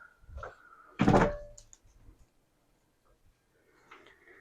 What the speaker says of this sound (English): I'm going to open both doors.